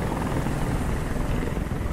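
A helicopter in the video game Detroit: Become Human, its rotor roar loud, steady and close, with dense low thumping that holds unbroken and nothing else over it.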